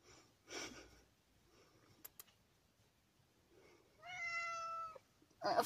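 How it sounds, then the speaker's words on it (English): A house cat gives a single clear, drawn-out meow about a second long, following quiet rustling and soft sniffing noises, with a short scuffle at the end. "So that's my gorgeous cat."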